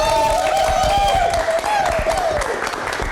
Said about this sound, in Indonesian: Tepuk tangan dulu untuk Osel